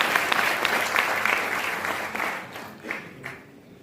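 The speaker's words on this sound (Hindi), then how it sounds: "तालियों के साथ उनका स्वागत करें।" An audience at a national-level HDFC and CSC meeting in Delhi claps steadily, a dense patter of applause that thins out and fades over a few seconds.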